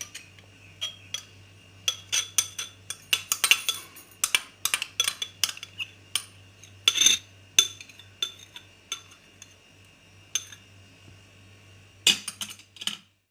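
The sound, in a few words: mixing chickpea salad ingredients with a spoon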